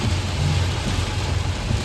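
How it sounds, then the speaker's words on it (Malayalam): Heavy rain drums on a moving vehicle during a family drive, a loud, continuous wash of noise with a low engine rumble beneath it. "ഭയങ്കര മഴ ഹെവി മഴ ഒന്നും കാണത്തില്ല"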